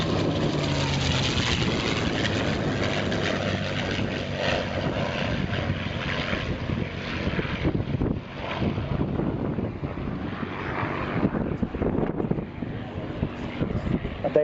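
A restored vintage propeller aircraft flying at the Shoreham airshow, a steady droning engine roar heard through heavy wind buffeting on the microphone, with an announcer's voice talking faintly underneath.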